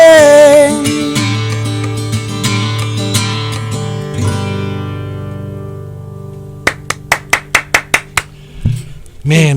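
A lone host claps about eight times, sharp and close, right after a song's final sustained notes ring out and fade in a small studio.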